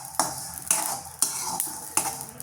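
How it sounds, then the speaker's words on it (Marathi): Sesame seeds toast in a pan with a constant light crackle, and four rhythmic scrapes of a spoon or spatula sweep across the metal. "नंतर यातच आपण तीळ थोडेसे टाकून भाजून घेणार आहोत."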